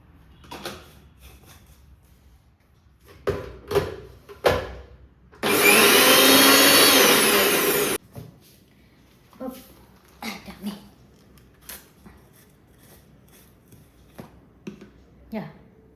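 A kitchen blender grinds milk and other mango cake ingredients, roaring loudly in one steady burst of about three seconds, with a person talking before and after.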